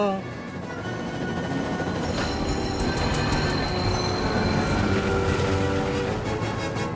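A cartoon train rumbles along an old track toward a forest, with a steady rolling roar, wheel squeals and high metallic screeches layered over a continuous loud bed.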